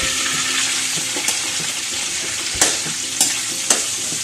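Shrimp frying in oil previously used for tofu, a loud, steady close sizzle and crackle throughout, with a few sharp scrapes or clinks of stirring.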